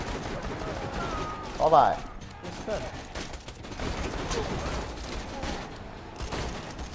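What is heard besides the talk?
gunfire in video game Borderlands 2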